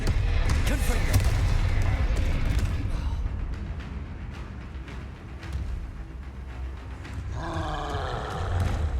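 A troll roaring in Hogwarts Legacy, deep rumbling growls and heavy bellows that stay loud throughout, with other game noises mixed in.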